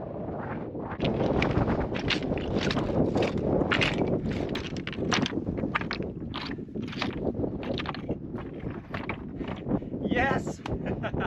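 Strong wind gusts buffet the microphone on the exposed summit of Gros-Morne in Newfoundland, a loud, continuous roar with uneven bursts that carries on steadily throughout.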